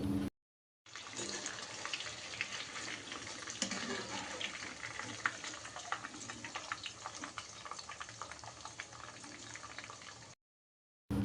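Prawns frying in hot oil make a steady bubbling, crackling sizzle of moderate loudness that runs continuously between brief silences at the start and end.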